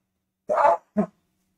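A person sneezes during an oncology lecture: a loud, close two-part burst, a longer explosive blast and then a short second puff, followed by silence.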